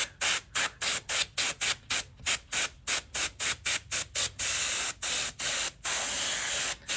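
An airbrush gun sprays face paint through a stencil in rapid, even hissing bursts, about a dozen short puffs with brief gaps, then a few longer sustained sprays. The sound is close and loud, and the gun's air pressure is set a little too high.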